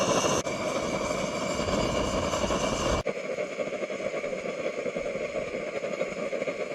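A Trangia X2 multifuel burner running on petrol with its valve fully open gives a loud, steady roaring hiss, changing abruptly in tone partway through and continuing evenly.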